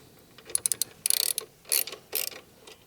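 Ratchet clicks from a 17mm socket working the side stand bolt loose on a Honda CRF300L motorcycle, coming in several quick bursts of sharp metallic ticking, close and fairly loud, with brief pauses between strokes.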